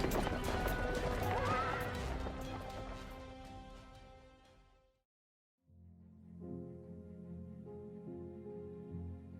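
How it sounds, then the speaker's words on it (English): Cavalry horses in a fantasy battle game whinny loudly over clattering hooves for about five seconds, then cut to a brief silence before a low, steady tonal drone. "Reinforcements, cavalry bearing the Duke's livery."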